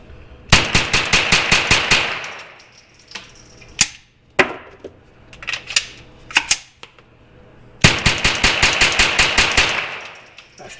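A .22 rifle, a Derya TM22 or Kriss Vector 22, fires rapid close, loud strings of shots, then a few spaced single shots and clicks, then another fast burst.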